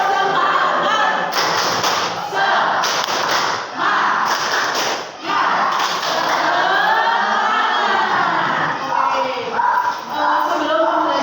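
Schoolchildren in a classroom perform the tepuk semangat clapping chant: loud rhythmic group claps in bursts mixed with chanting voices, a full, close crowd sound that continues for several seconds.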